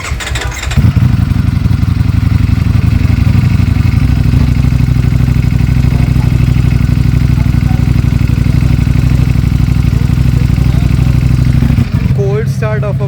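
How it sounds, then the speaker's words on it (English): A Ducati Panigale V4 on stock exhaust cranks and fires from cold, then settles into a loud, steady, throbbing idle close by; a voice speaks briefly near the end. "cold start of a Panigale V4."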